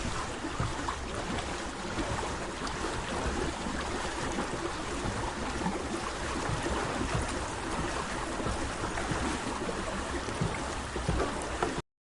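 River water rushing during river rafting in Sikkim, a steady, broad roar of turbulent flow that stays loud and unbroken throughout, with no voices.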